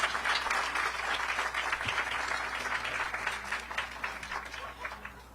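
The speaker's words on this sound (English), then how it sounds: "Let's give my amazing staff a great round of applause for all they do every day" A crowd applauds staff at a ribbon cutting for a family health and birth center, sustained dense clapping that holds steady and then slowly thins out toward the end.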